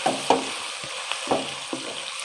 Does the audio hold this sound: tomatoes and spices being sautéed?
yes